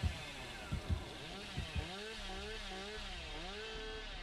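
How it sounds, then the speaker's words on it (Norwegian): Chainsaw revving in the horror game Dead by Daylight during a beta match, a rising and falling engine whine with wavering pitch that holds steady after a few low thumps at the start. "Jeg hørte motorsaga."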